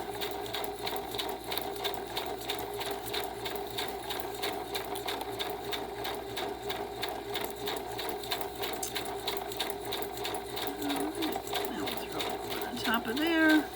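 A sewing machine stitches zigzag and straight stitches on paper, a fast, continuous, steady mechanical whirring and rapid ticking of the needle that runs throughout, close and even, with brief sounds at the very end.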